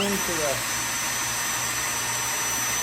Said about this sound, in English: So I'm just gonna pre-drill it just to be sure.